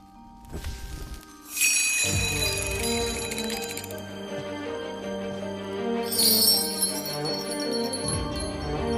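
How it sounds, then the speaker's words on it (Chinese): A small hand bell rings in bright, shimmering shakes, its metallic tinkling ringing out and lingering between bursts. "你看着我手中的铃铛，每听到一声响"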